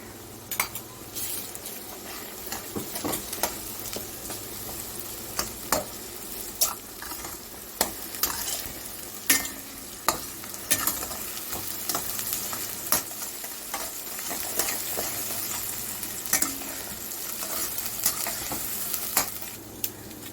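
Onions with ginger-garlic paste frying in oil for a potato chicken curry: a constant crackling sizzle broken by frequent sharp clinks and scrapes of a spoon against the pan, close and without voices.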